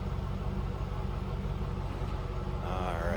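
Steady low idle of a 2002 Chevrolet Camaro Z28 convertible with a 5.7 liter V8 and dual exhaust, a constant deep rumble close by throughout.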